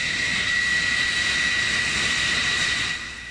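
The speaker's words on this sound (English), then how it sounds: "Another launch, airplanes leaving the cat again." F-14 Tomcat jets launching off an aircraft carrier deck catapult produce a loud, steady jet engine roar that holds evenly and eases slightly at the end, with no talking.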